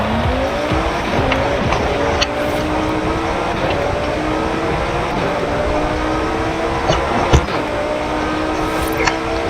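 A Lamborghini STO races in the video game Forza Horizon 5. Its engine roars loud and constant, rising and falling through gear changes, with bursts of tire squeal and a few sharp knocks and impacts.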